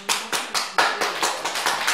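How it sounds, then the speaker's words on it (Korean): Audience clapping at a Buddhist temple dharma talk, a short run of about eight evenly spaced, crisp claps at a steady rhythm, close and clear with no talking. "왜 박수를 못 치라고 사람이"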